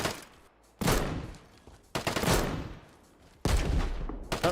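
Loud bursts of automatic gunfire from a machine gun in the video game Deadside, three sustained volleys separated by brief pauses, close and harsh.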